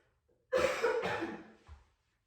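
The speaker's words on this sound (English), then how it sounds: "I'm gonna have to cough, hold on." A single close cough, a harsh burst lasting about a second, followed by a short softer catch of breath, in an otherwise quiet room.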